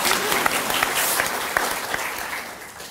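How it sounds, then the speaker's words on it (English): Audience clapping at a talk, a continuous bed of many hands with a few distinct sharper claps popping out, moderately loud and steady throughout. "You may clap."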